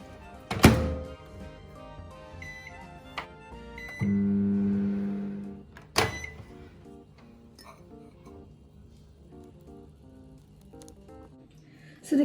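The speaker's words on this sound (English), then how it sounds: "Now we're going to pop this into the microwave." A microwave oven baking chocolate cake batter: a door thunks shut, keypad beeps sound, then a steady hum runs for about two seconds before another thunk and quieter handling noises, with faint talk.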